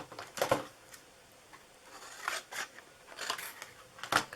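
Scissors snip through pieces of paper card for a layered greeting-card background, several crisp cuts in an uneven rhythm, close and fairly quiet, with no talking.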